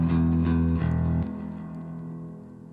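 A bass guitar run through a reverb effect, heard as sustained low notes with a smeared ringing tail that fades after the playing stops.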